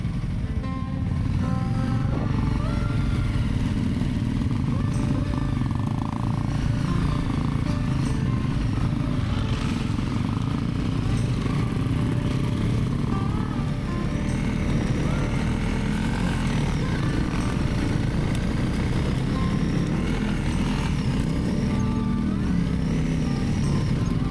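An off-road motorcycle engine drones steadily and loudly while riding muddy, rocky hill trails in Portugal's Marão Mountains, with wind noise over the continuous rumble.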